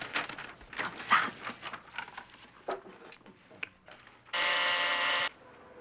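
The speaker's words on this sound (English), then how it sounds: "I thought I'd put a buzzer up here." A buzzer sounds once in a steady harsh tone lasting about a second, following a stretch of scattered indoor bumps and movement.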